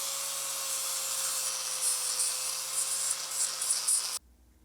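A power grinder works a Jeep axle down to bare metal with a steady high-pitched whine and shifting abrasive hiss, close and continuous, then cuts off abruptly just before the end.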